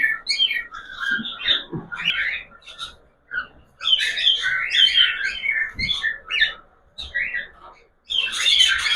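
Pet cockatiels at a breeding setup with nesting pots chirp and whistle in bright, repeated bursts close by, with brief pauses between flurries and a few low knocks underneath.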